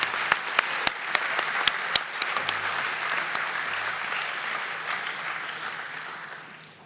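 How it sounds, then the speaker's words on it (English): Audience applause for scholar athletes at a senior athletic awards ceremony, opening with a few sharp individual claps before swelling into steady, sustained clapping from a crowd that gradually fades out. "one more round of applause for our Scholar Athletes"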